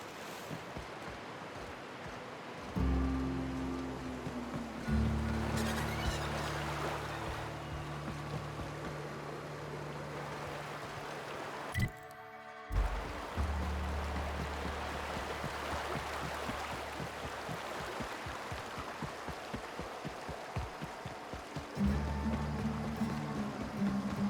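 Waterfall ambience in The Outer Worlds, a steady rushing wash of falling water with a low droning hum that comes and goes in the background, no talking.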